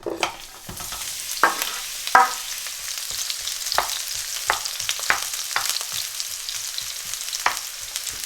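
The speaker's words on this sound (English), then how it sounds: "So I'll start frying these onions." Steady sizzling of onions frying in hot oil, with occasional stirring clicks and scrapes of a utensil against the pan throughout.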